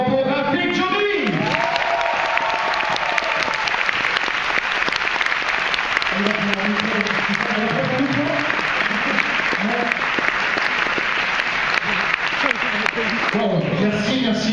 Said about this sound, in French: Un tonnerre d'applaudissements pour Rafik Djouri.